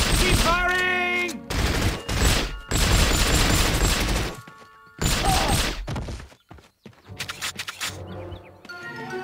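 Gunfire from James Bond 007: From Russia With Love, loud close bursts of automatic fire in several separate volleys with brief gaps between them, a voice shouting over the shooting.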